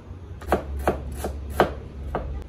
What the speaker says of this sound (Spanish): otra forma de cortar el repollo sesgado como acabo de hacer yo